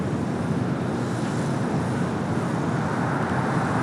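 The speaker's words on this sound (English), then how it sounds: "that 777 freighter cleared for takeoff, now starting its roll down to 25 at left" Boeing 777 freighter beginning its takeoff roll on runway 25 Left at Los Angeles airport, a steady broad engine roar that holds level and unbroken throughout, with no voices.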